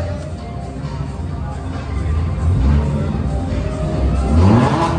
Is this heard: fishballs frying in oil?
no